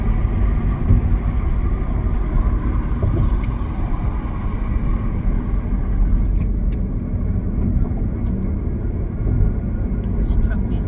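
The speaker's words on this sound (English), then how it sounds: "This truck needs to go home somewhere." A truck with loose stuff falling off it rolls past nearby on the road, a steady broadband engine-and-tire rumble holding loud and constant throughout, with faint high rattles near the end.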